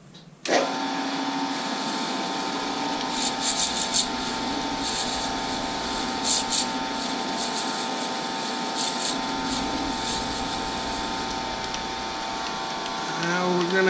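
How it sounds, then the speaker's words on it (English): A bronze and damascus mug is sanded with a power sander, a steady loud droning whine running continuously for over ten seconds with rough scraping surges as the piece is pressed against the abrasive. "Gonna do some sanding. Yay, sanding."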